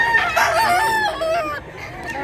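A gamefarm rooster in Mantalungon, Cebu, crows once in a loud, drawn-out call close by, the strained cry wavering and tailing off by the end, with no talk over it.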